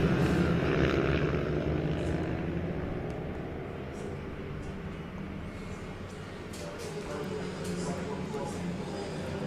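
Mini GP 140 racing motorcycles at the Teesside round run along a circuit, a continuous droning engine roar from a distance that swells and fades slightly, with a commentator speaking over it.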